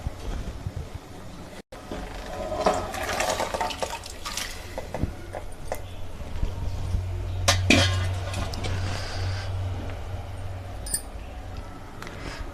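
Cooked vegetable pieces for sambar tipped into a pot, with metal clinks and scrapes of a vessel against the rim and wet splashy tumbling, close up.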